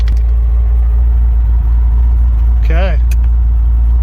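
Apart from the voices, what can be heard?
LS-swapped Nissan 240sx with T56 engine running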